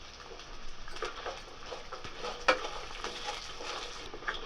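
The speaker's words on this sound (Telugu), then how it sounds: "ఇందులో మనం తీసి పెట్టుకున్న జీడిపప్పును కూడా వేసి వేయించుకోవాలి." Cashews and curry leaves frying in a pan for a rice dish, a soft continuous sizzle with light crackles and one sharper pop midway, close and fairly quiet.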